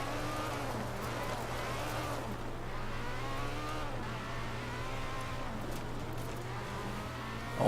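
A Ferrari F355 Berlinetta engine drones under driving in the racing game Forza Horizon 4, a steady mid-pitched hum with faint rising and falling shifts in revs, fairly quiet throughout.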